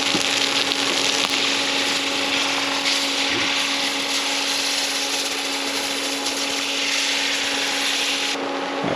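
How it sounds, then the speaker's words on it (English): Hash browns are turned in a skillet over a continuous loud sizzle, with scraping and rubbing of the spatula against the pan and a steady background hum, and no talking. "I'm going to go ahead and start turning the hash browns"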